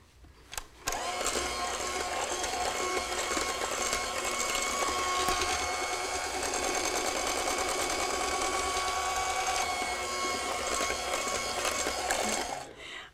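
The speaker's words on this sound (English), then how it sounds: "slow down the mixer to low speed and add 4 eggs one by one" An electric mixer whirs steadily on low speed for about twelve seconds as it beats New York–style cheesecake batter while eggs are added. The sound is close and continuous, with no speech over it.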